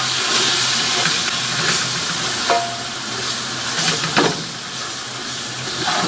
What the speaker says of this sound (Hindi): ज़रा सा फ्राई होने दें ताकि हल्दी की जो खुशबू है वो आ जाए